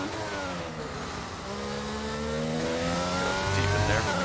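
An F1 race car engine in the game F1 22 screams and climbs through its revs under overtake boost at Brazil or Abu Dhabi, loud and continuous, with rising harmonic whine.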